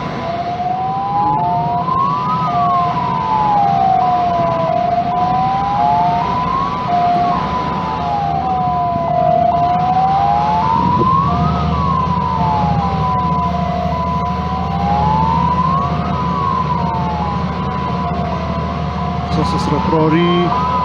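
Emergency vehicle sirens from Nepal fire engines and security vehicles at a rescue scene after a plane crash, a steady rising and falling wail repeating throughout with continuous crowd and traffic noise beneath.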